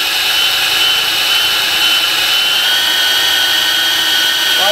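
A loud, steady mechanical whine from an electric drill spinning a boat propeller continuously at about 600 rpm, with no talking over it.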